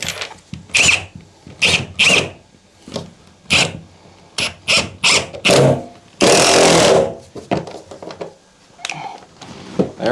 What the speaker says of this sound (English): I got an impact, so let's just screw them in.